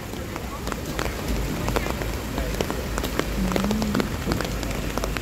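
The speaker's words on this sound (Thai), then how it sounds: "ตอนนี้ฝนก็ยังลงเม็ดมาแล้วนี่ลงมาเป็นระยะนะครับ" Rain falls in scattered drops at a temple fair on a wet evening, a steady patter on surfaces with voices and crowd noise mixed in and a brief low whistle-like tone near the end.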